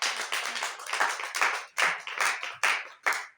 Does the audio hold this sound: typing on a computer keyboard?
no